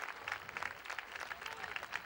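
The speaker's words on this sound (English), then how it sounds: "she's going to get a well-deserved round of applause" A crowd at a varsity girls soccer game applauds, a thin, fairly distant patter of clapping that holds steady for a couple of seconds.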